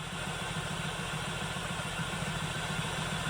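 Engine of a VT monster truck running just after its first start-up, a steady idle with a low, even rumble and faint clatter, continuous and moderately near, with no talking.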